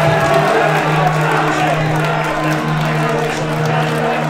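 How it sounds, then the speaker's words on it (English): A kickboxing crowd at Combat Challenge Leeds stands and cheers in a steady, dense roar that fills the hall, with a commentator's voice running over it. "The crowd absolutely loving it. They're on their feet."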